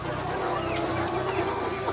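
Crowd of about 700 young laying hens clucking together in a coop, a steady murmuring chorus of overlapping calls throughout, fairly close and continuous.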